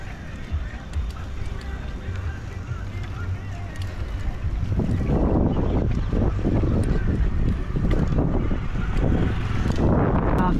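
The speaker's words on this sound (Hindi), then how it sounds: "काफी ज्यादा हवा चल रहा है।" Strong wind blows hard outdoors in a park, a loud continuous roar buffeting the microphone and building stronger in the second half, with someone talking over it.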